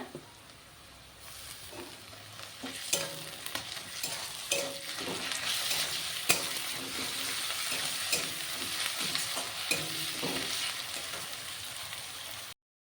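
Garlic paste goes into lightly fried onions in a pan for a country chicken curry. A close, crackling sizzle with scattered sharp pops grows steadily louder and keeps going for over ten seconds.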